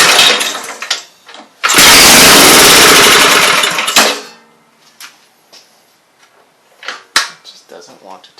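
A 5 HP Briggs and Stratton small engine fed fuel straight down the carburetor throat catches with a roar for about two seconds, then dies. Clanks, handling noises and scattered talk follow.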